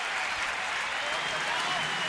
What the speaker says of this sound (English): And a standing ovation from the home crowd here in Nats Park.